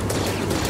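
Blaster fire from the game Star Wars Jedi: Fallen Order, a dense burst of loud shots packed tightly together with no gaps.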